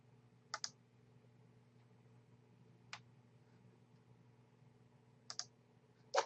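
Sharp computer mouse clicks during work in the Anim8or 3D modelling program: a quick double click, a lone click, then two more double clicks, close and fairly quiet over a low steady hum.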